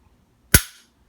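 An S&W Shield or Kahr CM9 pistol gives a single crisp, close trigger-pull click on its own in a quiet room.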